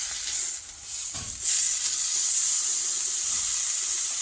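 A steak sizzles steadily in a hot pan, a continuous bright hiss with a brief clattering thump partway through as the meat is flipped, close and fairly loud with no voices.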